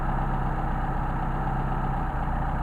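A Mercedes 190SL engine running on Solex carburetors idles steadily up close, a smooth even mechanical hum with a regular low pulse and no voices.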